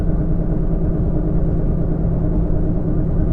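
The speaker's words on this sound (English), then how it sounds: "you've been getting quite a lot of road noise coming from the back right wheel" A 2011 Nissan Sentra drives with a worn rear right wheel hub bearing, making a continuous loud, low road rumble and drone that holds steady before cutting off abruptly at the end.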